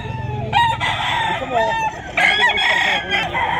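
Several roosters crow loudly and overlapping at a crowded pre-dawn pet market in Bocaue, Bulacan, with long drawn-out calls close by over a constant background din of other fowl.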